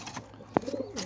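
A pigeon gives a short, soft coo, heard once near the middle over a quiet background.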